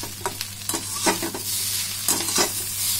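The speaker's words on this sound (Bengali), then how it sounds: "এভাবে ভালো করে মিশিয়ে দিতে হবে। আর এটা কিন্তু আমি জোর আঁচেই করছি।" Egg and potato being stirred together while frying over high heat in a pan, with steady sizzling and repeated scraping strokes of the spoon close by, no talking.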